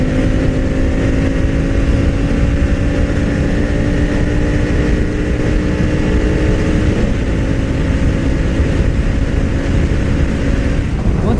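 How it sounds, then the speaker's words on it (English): Honda Africa Twin CRF1000L2 Adventure Sports motorcycle cruising in 6th gear at about 90 mph, a loud, steady engine drone with constant wind roar, unbroken throughout. "here we are cruising 6th gear,"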